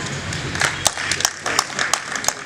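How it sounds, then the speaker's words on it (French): A brief burst of audience clapping at a choral cabaret concert in Togo, with scattered, uneven claps over a murmur of voices. "Donc, alors applaudissez."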